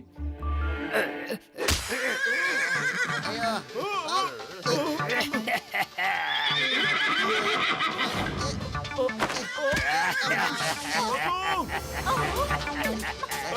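Cartoon horse gives a loud whinnying neigh amid quick galloping and scuffling effects, with animated voices talking over the action.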